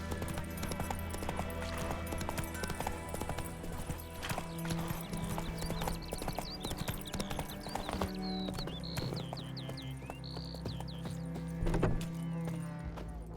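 Roach the horse gallops in The Witcher 3, with quick, steady hoofbeats running throughout, mixed with game ambience and occasional chirping birdsong.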